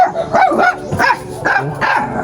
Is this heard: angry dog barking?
yes